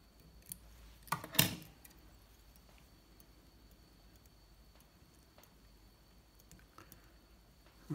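Small scissors snip off excess thread while tying an olive and peacock nymph fly, with a couple of crisp close snips early on, then faint handling sounds in a quiet room.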